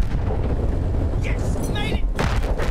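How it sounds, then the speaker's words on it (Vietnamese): In the video game Battlefield 1, bombs explode as heavy, booming blasts that rumble low and continuous, with sharper bursts near the end and muffled voices faintly underneath. "nó nổ bom được sao á"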